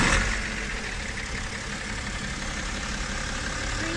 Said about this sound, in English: it's a 6-cylinder diesel sort of sound